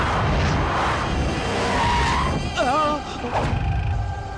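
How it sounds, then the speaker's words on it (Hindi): Car tires skid and squeal as the vehicle swerves through a sharp turn in an action chase, a wavering high squeal rising over loud engine rumble and shouting voices. "दुर्गा, गाड़ी घुमा, गाड़ी घुमा, गाड़ी घुमा जल्दी से"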